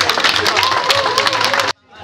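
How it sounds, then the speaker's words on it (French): Audience applause at a 60th birthday celebration, a dense wash of clapping that continues for nearly two seconds and then cuts off abruptly into quiet. "Merci de les applaudir"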